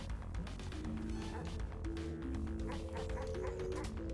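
Yips and whimpering barks from a dog in the video game Animal Well come in quick bursts. They sit under a dense, busy game soundtrack with constant noise.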